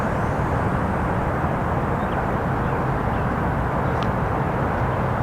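A DJI FPV drone flies outdoors with a constant, dense whirring buzz from its motors and propellers that holds steady and fairly loud throughout, with no voices.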